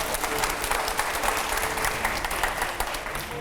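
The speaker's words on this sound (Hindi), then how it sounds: "पहले तालियां हो" A studio audience at a Hindi television interview with actor Anupam Kher breaks into dense, continuous applause, many hands clapping at once in a steady roar.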